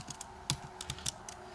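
Code is typed on a computer keyboard in a quiet room: a handful of faint, irregular key clicks, one slightly louder tap among them, with no talking.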